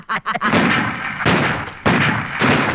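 Bursts of gunfire in a Kannada action movie scene ring out in several loud volleys separated by brief pauses, with a rapid cluster of sharp shots at the start.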